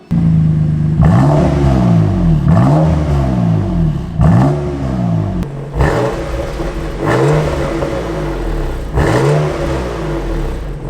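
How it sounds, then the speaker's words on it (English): A BMW M2 Competition with an Akrapovic axle-back exhaust revs repeatedly, each rise in pitch followed by a drop, with a deep, loud exhaust bellow close by. "Akrapovic exhaust system fitted to the BMW M2. A much nicer, deeper bellow sound now coming from the M2"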